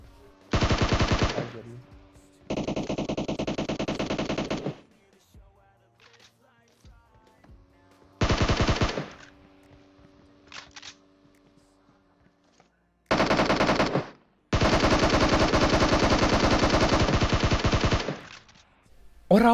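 Rapid automatic gunfire in the mobile battle royale game PUBG Mobile crackles in several separate loud bursts of varying length, with quieter gaps and faint game sounds between.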